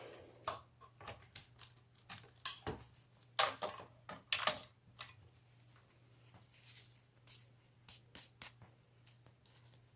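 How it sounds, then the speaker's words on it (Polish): Scattered soft taps, scrapes and rubbing sounds at close range as a greasy tape inside a Sony TA-F555ES amplifier is cleaned, irregular and fairly quiet over a steady low hum. "Weźmy sobie, wyczyśćmy tą taśmę."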